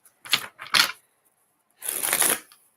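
Tarot cards being shuffled by hand in quick riffling bursts: two short close rattles, a pause, then one longer crisp riffle, with no talking.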